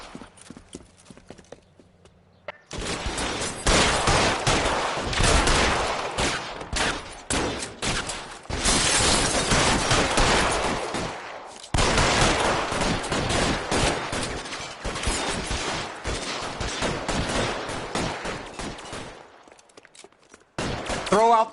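Gunfire erupts in an L.A. Noire shootout: after a quiet start, long stretches of rapid, loud shots and bursts run almost continuously, broken by short pauses, with faint voices underneath.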